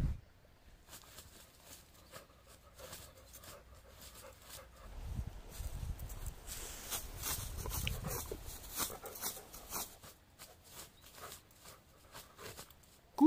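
A dog makes soft whimpers and snuffling noises close by, quiet and intermittent, with faint rustling and a brief swell of low breathy sound in the middle.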